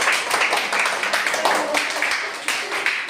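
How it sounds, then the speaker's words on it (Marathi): A crowd of mothers at a parents' workshop in a Maharashtra village claps steadily, the dense applause holding loud for its whole length with no talking over it. "सगळ्या मातांसाठी जोरदार टाळ्या"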